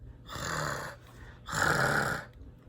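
A voice imitates heavy panting: two long, raspy, breathy exhalations, close and loud, separated by a short pause.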